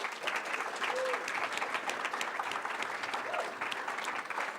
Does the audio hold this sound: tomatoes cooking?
no